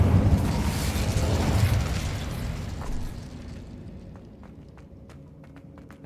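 In Hogwarts Legacy the Incendio fire spell erupts in a loud roaring whoosh that fades over several seconds into quiet, with faint clicks following.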